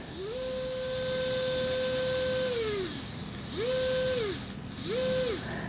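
A Miniware ES15 electric precision screwdriver's small motor whines steadily for about two seconds, then gives two shorter spin-ups that rise and fall in pitch, close and alone.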